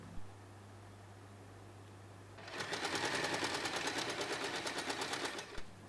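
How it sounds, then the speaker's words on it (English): A sewing machine stitches the short edge of two fabric layers placed right sides together for a small phone pouch, running in a steady rapid burst of about three seconds after a quiet start, then stopping. "bring the fabric right sides together and sew the short edge"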